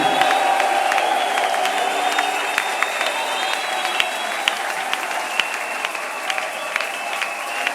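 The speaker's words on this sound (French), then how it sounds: "Est-ce que tu peux t'élever, ovationner et acclamer fortement pour la gloire de Jésus?" A church congregation at a service with Pierre Kitoko Makasi and Pastor Walesa applauds and cheers loudly and continuously. Voices shout and whoop over the dense wall of clapping.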